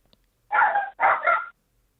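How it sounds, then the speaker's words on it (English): Two dogs bark, giving two short, loud, close barks about a second apart, the second one doubled, followed by silence. "His dogs are barking, I'll tell you that much."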